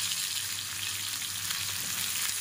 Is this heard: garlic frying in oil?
yes